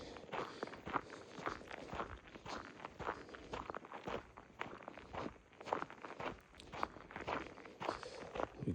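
Steady crunching footsteps of someone walking on a street in the small town of Iliff, Colorado, a regular close-up rhythm of gritty steps running throughout with no talk.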